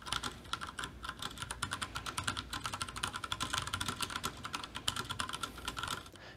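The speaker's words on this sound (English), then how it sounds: "Tactile switches have a notable bump when pressing down on them, which signifies the key has been pressed." Rapid, continuous typing on a mechanical keyboard with tactile switches, dense clicky keystrokes close up and fairly loud, steady throughout with no voices.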